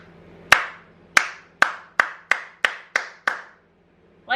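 One person claps slowly, eight sharp, close hand claps in a steady rhythm that quickens slightly, each with a brief room echo, alone with no talking.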